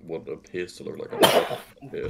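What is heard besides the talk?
sneeze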